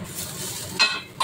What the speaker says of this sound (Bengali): এখানে সবজি ভাজা হচ্ছে